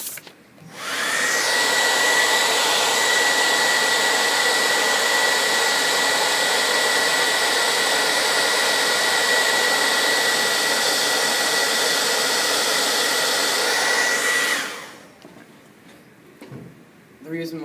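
A handheld blow dryer blows a steady, loud whoosh to hold a ping pong ball floating in its airstream, running for about fourteen seconds before switching off.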